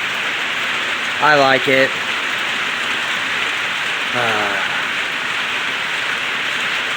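Steady rain falls across the whole stretch as a broad, even hiss, with someone speaking briefly over it twice.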